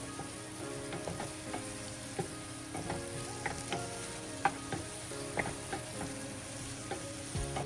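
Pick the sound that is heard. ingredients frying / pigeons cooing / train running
ingredients frying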